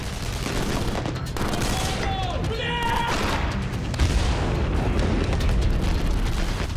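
Dense, continuous gunfire crackles and booms under a loud, noisy roar, with bursts overlapping throughout and no clear pauses.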